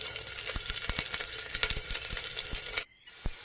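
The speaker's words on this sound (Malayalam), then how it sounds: "ഒരു ഉള്ളി അരിഞ്ഞത് ഇട്ട് കൊടുക്കാം." Chopped onion sizzles in hot coconut oil or ghee with a dense, steady crackle close by, punctuated by light stirring clicks and a brief lull near the end.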